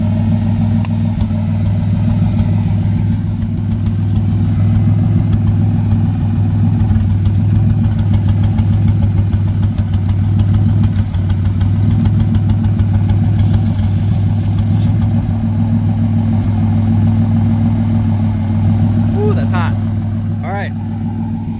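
The twin-turbo V6 of a Mustang runs steadily with a loud, low droning rumble, and a couple of brief squeaks come near the end.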